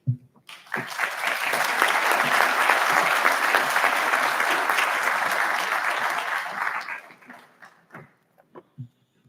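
An audience at a medical school graduation ceremony bursts into sustained applause welcoming the dean, loud and even for several seconds before fading into scattered claps.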